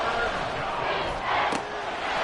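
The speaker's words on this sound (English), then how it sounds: "This crowd trying to force a false start here." A loud football stadium crowd roars and yells continuously before a play, a dense wall of cheering with a brief whistle-like swell in the middle.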